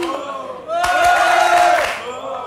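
A TV talk-show studio audience gives a repeated burst of applause and cheering, loud clapping and shouts rising abruptly after a voice, holding for about a second, then dropping back to talk.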